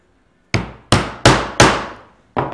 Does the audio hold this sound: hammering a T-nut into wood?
yes